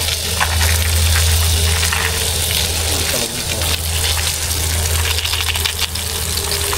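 Water gushes loudly and continuously from a hose onto the base of a tree, a dense close rush over a low steady hum that holds for the whole stretch.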